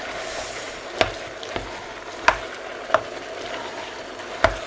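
Spring onions are stir-fried in a hot pan for a Thai beef curry with spring onions and dill. A steady sizzle carries through, with sharp spatula knocks against the pan about once a second.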